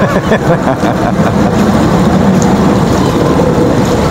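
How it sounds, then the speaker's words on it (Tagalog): Heavy rain pours down during a thunderstorm on a walk in Sharjah, a dense, loud, continuous roar of falling water close by, with a low rumbling undertone throughout. "Lakas ng ulan"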